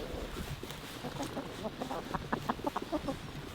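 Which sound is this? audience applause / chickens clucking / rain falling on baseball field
chickens clucking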